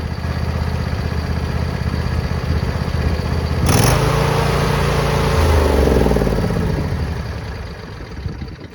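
A neglected John Deere engine with freshly replaced spark plugs runs steadily nearby, its even mechanical drone holding throughout, with a brief rise and settling in pitch partway before easing back to a smooth idle.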